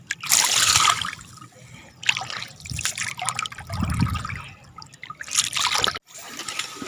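River water outdoors trickles and splashes in uneven bursts, louder gushes separated by quieter stretches of low burbling, close by.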